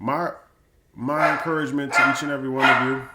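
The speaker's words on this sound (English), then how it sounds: "excuse my dog." A dog barks briefly at the start and again under a man's speech, its short yips mixing with the voice.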